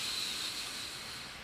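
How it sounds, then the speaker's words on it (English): Someone draws in one long, slow, steady breath during a mantra practice. The inhale is close and hissing, with no other sound. "let's take a deep breath in"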